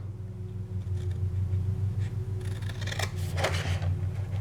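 Scissors cut through fabric for a wine bottle cover, soft close snipping and rubbing strokes growing busier toward the end, over a steady low hum in the room.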